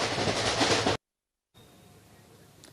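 Train running on rails during a journey in Bengal, a loud steady rumble that cuts out abruptly, then after a brief silence a quieter, softer rolling rumble resumes.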